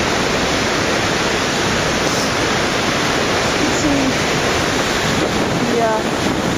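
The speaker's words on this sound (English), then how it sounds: "Yes, more wind and rushing water." A waterfall in Iceland gives off a dense, continuous rush of water, with heavy wind buffeting the microphone throughout, loud and close, and a brief voice comes in under the noise.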